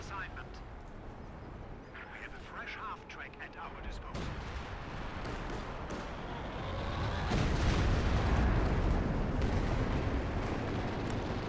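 Artillery in the Company of Heroes 2 World War II strategy game fires amid a dense, continuous rumble of battle noise and explosions that swells louder near the end, with a voice talking over it.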